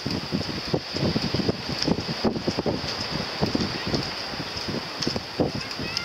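Gusty wind buffeting the microphone outdoors on the coast of Brittany, France, a constant rough rumble with irregular thumps and a faint high hiss throughout.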